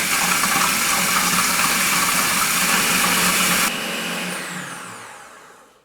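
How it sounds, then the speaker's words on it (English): A blender blitzes a mango and chicken Thai curry sauce to a smooth paste, giving a loud, steady whirring roar that cuts off partway and winds down to silence. "All you need to do is blitz this baby up. Just blitz it to the smoothest possible paste."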